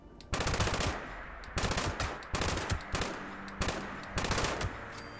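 Explosive light machine gun in Fallout 76 firing several loud rapid bursts, each a dense rattle of booming shots with short gaps between volleys.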